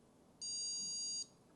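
A Prusa MK4 3D printer gives a single steady electronic beep during its self-test, lasting under a second against faint background hum, with no talking.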